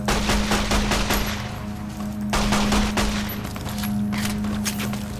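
Modded weapons fire in Fallout New Vegas in a loud, continuous fusillade of rapid automatic gunshots, with a steady hum underneath and brief dips between bursts.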